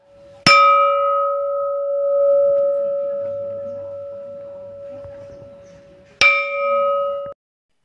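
A village funeral bell strikes twice, each clang ringing out with a long, sustained tone that slowly fades; the second strike comes about six seconds after the first.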